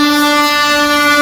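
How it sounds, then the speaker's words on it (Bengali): A passenger train running at a good speed, heard as a loud, steady hum with a strong sustained tonal drone throughout, close and continuous with no talk. "ট্রেন তার নিজের ছন্দে কিন্তু ছুটে চলেছে, গতিবেগ কিন্তু ভালোই আছে"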